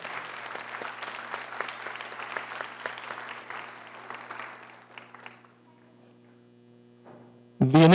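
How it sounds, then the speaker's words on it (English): An audience at an evening commemorative lecture claps and cheers for visiting guests, a dense, steady applause of many hands lasting several seconds before thinning out, with a low mains hum underneath and a voice starting at the end. "Let's give a cheer for all of our visitors here tonight."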